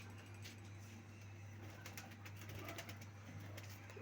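Pigeons coo softly and faintly, with the low throaty calls sitting under a steady background hum and some scattered clicks and rustling, with no voices in the clip.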